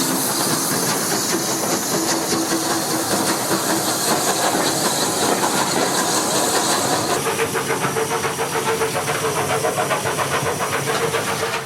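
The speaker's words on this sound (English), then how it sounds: "I love that wonderful syncopated exhaust beat of the Bulleid Pacifics" A steady, rapid, syncopated Bulleid Pacific steam locomotive exhaust beat chuffs continuously under loud hissing and rumbling, close and unbroken throughout.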